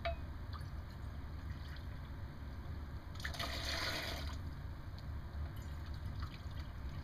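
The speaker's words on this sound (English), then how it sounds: "Two cups of water." Two cups of water being poured for a rubbing-alcohol ice pack, a steady splashing pour that swells for about a second midway over a constant low background hum, close by with no talking.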